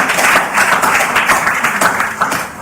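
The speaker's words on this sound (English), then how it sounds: "Please give yourself an applause again." An audience applauding: dense, continuous clapping with a rippling texture, loud and close, sustained the whole time.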